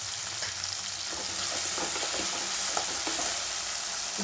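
Tomatoes sauté in a hot pan, giving a steady close sizzle with scraping stirs throughout and no voices.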